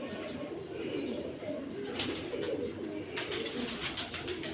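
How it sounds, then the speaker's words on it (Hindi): Pigeons coo softly in a loft, low throaty calls repeating close by over a faint rustling background, with a few sharp clicks and taps, no speech. "ये मुबशर भाई जो कहते हैं मेरा बड़ा सलारा कबूतर है वो है"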